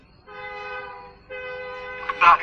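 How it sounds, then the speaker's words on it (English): At a train station, a train horn sounds two sustained blasts, the second followed by a brief burst of station noise, heard at moderate volume. "Is it some train station?"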